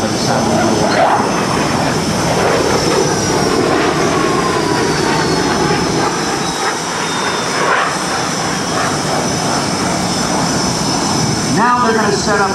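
Two jet engines of an F/A-18F Super Hornet throttled back to idle during a slow low pass at the 2008 Blue Angels Homecoming airshow, a loud, continuous roar and whine that keeps going with no break.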